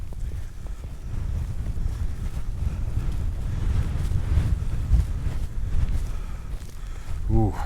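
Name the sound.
wind blowing while hiking down into a valley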